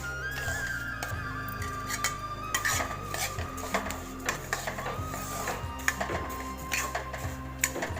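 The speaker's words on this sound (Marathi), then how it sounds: "तूप तर आता ही लाल होईपर्यंत भाजून घेऊ" Ingredients roasting in ghee in a pot for jaggery lapshi, stirred with a metal spoon that clinks and scrapes rhythmically against the pot, close by over a low steady hum.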